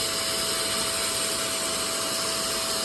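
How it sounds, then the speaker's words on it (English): A vacuum cleaner runs close and steady while cleaning dirty seats, a continuous whining drone with a constant high tone and no voices. "just kind of vacuum everything up."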